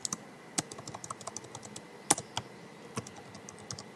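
Someone typing on a computer keyboard, close crisp key clicks in irregular bursts with a few louder strokes, quiet and without voices.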